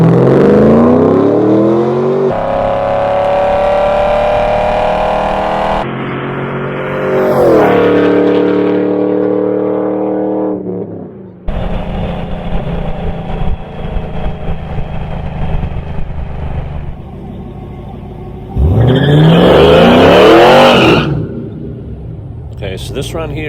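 2002 Camaro SS with an underdrive pulley accelerating on a quarter mile run, a loud engine climbing through rising revs with gear-change drops, then a rougher rumbling stretch and a final surging rev, with a voice speaking over it.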